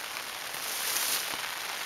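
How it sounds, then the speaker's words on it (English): Steady rain falls on surfaces at night in the South Dakota badlands, a continuous hiss of dense drops close by with no voices. "And the rain just continues on and on and on."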